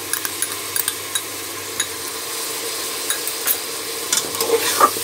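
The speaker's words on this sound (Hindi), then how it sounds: "तो अब हम इसमें डाल देंगे अदरक लहसुन का पेस्ट।" Mutton fries in a pan with ginger garlic paste added, a steady sizzle broken by scattered scraping and clinking taps of a stirring utensil, close and with no talking.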